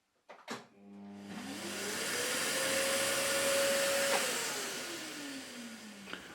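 A grinder spins up and whines steadily while grinding an indexable parting blade blank, rising in pitch then winding down, close and alone.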